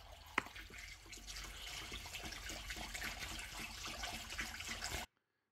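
Coolant mix pours from a container into the radiator of a Mercedes W460 300GD with an OM617 engine, a quiet continuous liquid gurgle with a small knock near the start, cutting off abruptly.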